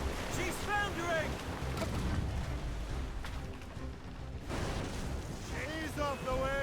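Naval cannon fire booms from a sailing ship battle in Assassin's Creed Rogue, heavy blasts rolling under constant wind and surf while crew voices shout in the background.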